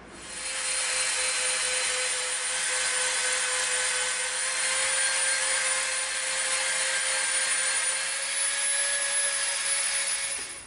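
A Dremel rotary tool shaping EVA foam for a samurai helmet dome gives off a steady, high-pitched whine that holds at an even level and drones on without a break.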